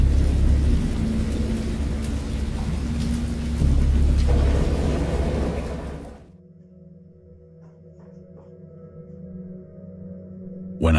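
Thunderstorm with heavy rain hiss and deep rolling thunder filling the first six seconds, then fading to a quieter rumble and scattered drips before a sudden loud crack at the end.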